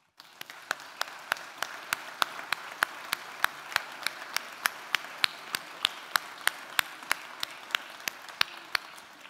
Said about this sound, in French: ils méritent qu'on les applaudisse pour les remercier